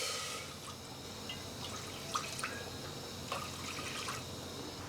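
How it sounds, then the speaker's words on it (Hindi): Water is poured into a pot on a gas stove, a soft trickle with a few splashes and drips. The sound is faint and continuous, and nobody speaks. "गैस पर मैंने एक पतीली रखी हूँ, उसमें डालेंगे 3 गिलास पानी।"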